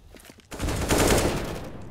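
Dense automatic gunfire in a CS:GO competitive match, bursts of rifle fire erupting suddenly after a quiet moment and continuing loudly with overlapping shots.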